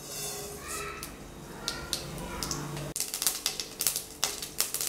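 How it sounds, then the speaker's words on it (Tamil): Mustard seeds popping in hot coconut oil in a pan, a quiet hiss breaking into rapid irregular crackling pops that grow denser toward the end. "எண்ணெய் காஞ்சாச்சு. கடுகு சேர்க்கலாம்."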